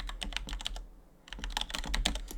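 Username keystrokes on a computer keyboard at a login prompt come as a quick, uneven run of clicky taps, close and clear, then a brief pause before another burst of steady typing.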